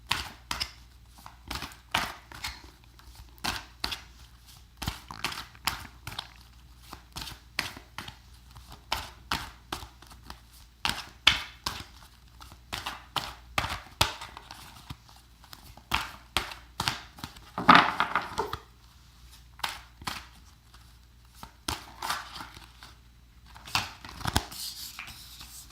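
Tarot deck being shuffled by hand, a long run of crisp, irregular riffling and tapping card bursts up close, pausing briefly between handfuls, with no voices.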